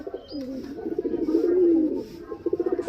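Old-bloodline Giribaz pigeons coo in a steady, throbbing low phrase that swells and fades, close by and clear over a quiet background.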